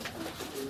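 Pigeons coo softly inside a pigeon loft, a low murmuring burble lasting under a second, fairly faint with some background rustle.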